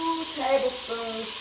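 Butter sizzling in a pan for sautéing vegetables for chicken and biscuit dumpling soup: a soft, steady close sizzle with faint tonal hiss, fairly even throughout.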